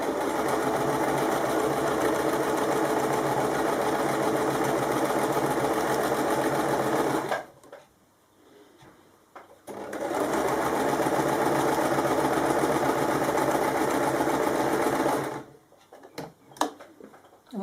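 A sewing machine stitches binding on a kimono wrap top in two long, steady runs of rapid, even clatter, separated by a short pause and followed by a few brief stop-start bursts, close and alone.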